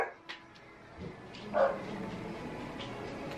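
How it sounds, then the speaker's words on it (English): Dogs at home bark a few times, the sharpest bark near the middle, each short and moderately close against a quiet room background. "My dogs are barking."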